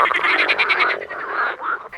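Frogs during a mass frog invasion croak in a loud, close chorus of rapid pulsing trills, one dense run breaking into shorter overlapping calls.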